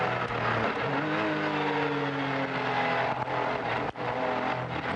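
A race car at the 1994 Le Mans 24 Hours roars continuously, loud and fairly close, with engine pitch shifting as it passes.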